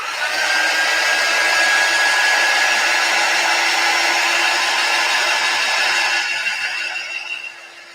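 A hair dryer blowing steadily at close range to dry chalk paste on discount-store holiday decor, a loud continuous whir with a faint high whine, cutting off and fading out near the end.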